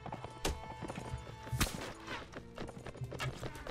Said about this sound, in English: Cavalry, you can go and charge now.